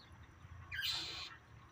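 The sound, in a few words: bird calling during fight with buzzards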